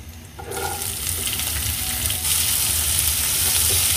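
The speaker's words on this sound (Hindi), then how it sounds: "हम अनियन को भी फ्राई कर लेंगे फॉर 2 मिनट्स" Onion hits hot oil already fragrant with cumin and ajwain, and a sudden sizzle bursts up and then swells louder and steadier, with occasional stirring, close by and without voices.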